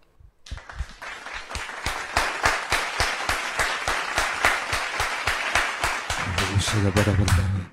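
A church congregation welcomes a guest with loud, rhythmic clapping in unison, evenly spaced sharp claps building after a brief quiet start, with singing or music rising near the end.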